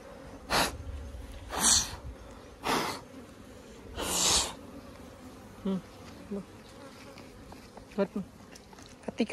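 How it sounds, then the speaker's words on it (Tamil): Honeybees at a wooden hive box, with several loud bursts of buzzing and puffs of air up close in the first half, then quieter scattered buzzing and small knocks. "அடியில அடியில் எதிர்க்குது பூச்சி"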